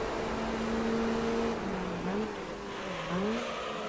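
A Honda front-wheel-drive car's high-revving engine in the racing game Gran Turismo 3, a steady close engine note holding pitch, then dipping and climbing again as revs change, with no talk over it.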